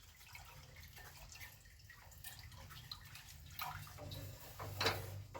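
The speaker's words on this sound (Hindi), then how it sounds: "ये हम इसमें धीरे धीरे ऐड कर देंगे और इसे मिक्स करते जाएंगे" Milk poured gradually into a golden milk mixture in a pan while it is stirred, giving a faint, steady liquid trickle over low background hum, with a brief louder splash near the end.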